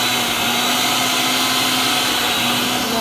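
An electric mixer beats muffin batter of Philadelphia cream cheese, brown sugar and an egg, giving a loud, constant whirring drone with no break from start to finish.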